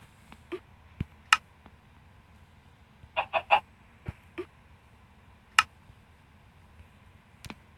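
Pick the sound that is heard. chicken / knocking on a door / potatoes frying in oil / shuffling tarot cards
chicken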